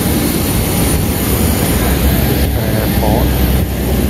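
Airplane engine during takeoff, a loud steady roar and whine filling the cabin continuously at full power with no letup.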